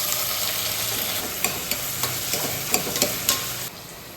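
Onion and ginger fry in a pan with potatoes, under a steady close sizzle broken by a string of sharp scraping stirs of the spoon, with no one talking.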